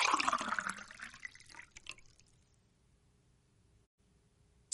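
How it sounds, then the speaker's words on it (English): Water is poured from a container onto sand, a splashy trickling pour that thins out over about two seconds and then falls silent. "Watch what happens when I pour water on the sand."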